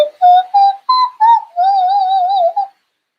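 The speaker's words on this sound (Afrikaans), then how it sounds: "Dis 'n neusvletjie, ek vlet my neus." A breathy, whistling nose flute plays a short tune of four brief notes and then a longer wavering note, clear and close with nothing else around it.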